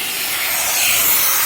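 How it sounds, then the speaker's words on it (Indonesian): Freon refrigerant hissing out of a car's air conditioning system, a loud, steady, close hiss of escaping gas that holds unbroken throughout. "perhatikan bunyi desis di sini"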